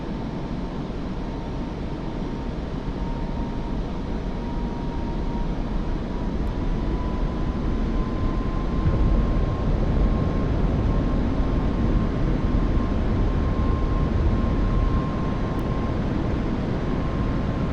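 A simulated F-5E jet in the DCS flight game roars with a steady, loud engine rumble and a thin whine, building slightly in intensity as it accelerates for takeoff, with no voices.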